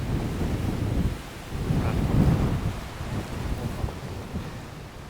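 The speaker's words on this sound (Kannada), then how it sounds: "ಫುಲ್ಲು ಗಾಳಿ ಜೋರು" Strong wind on a hilltop roars and buffets the microphone continuously, a loud rushing noise with gusts swelling and easing throughout.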